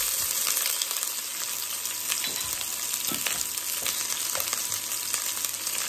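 Onion, garlic and a few fresh mild chili peppers frying in a pan, a steady close sizzle with crackles and faint stirring throughout, no voices.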